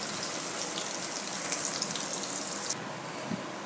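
Hot oil sizzles in a pan as the base for a cowpea masala curry, a soft steady crackle with scattered pops that thins out abruptly near the end.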